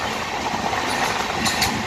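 Diva passenger train rolling through the Kelshi railway tunnel in the Konkan region, a steady enclosed roar of wheels and carriage rumble with no talk, close and continuous throughout.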